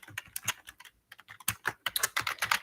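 Rapid typing on a computer keyboard, a quick run of crisp close key clicks with a brief pause partway through.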